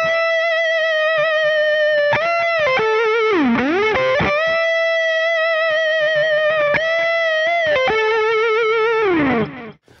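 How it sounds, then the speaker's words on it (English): A distorted electric Telecaster guitar holds a crying string bend with wide vibrato, then slowly releases it with a falling whine before fading out, played loud and alone with no talk. "you bend the note, and you give it vibrato, but then you slowly release it as you go, and it creates this real whining, weeping, if you will, sound"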